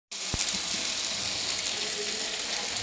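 Spice paste (masala) sautéing in a pan on a medium gas flame for an egg tadka, giving a steady close sizzle with a few faint clicks and scrapes early on.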